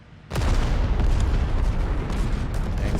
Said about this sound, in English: Tanks firing into the dirt.